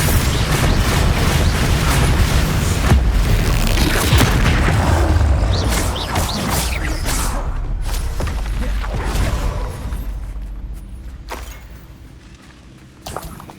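Bombarda explosion spell in the game Hogwarts Legacy, a loud, sustained blast with heavy rumbling booms and debris crashing that gradually fades, ending with a faint thud.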